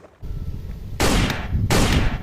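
Yellow toy shotgun firing: two loud, broad, harsh bursts, each lasting under a second, follow a lower background rumble.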